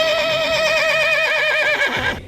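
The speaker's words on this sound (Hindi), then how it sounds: "घोड़ों की हिनहिनाहट" Horses neigh loudly and close, in a long wavering whinny that trails off at the end, with no voices over it.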